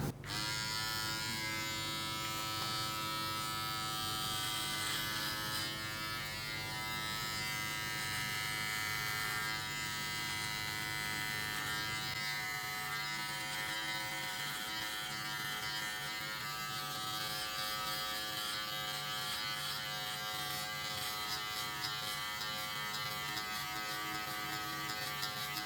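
A Manscaped Lawn Mower 4.0 Pro electric trimmer runs without its comb guard while trimming body hair, giving a steady, close, continuous buzz that shifts slightly in tone as it moves through the hair.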